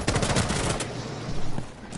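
Rapid automatic gunfire from Rainbow Six Siege hammers out in a loud close burst, then thins to scattered quieter shots.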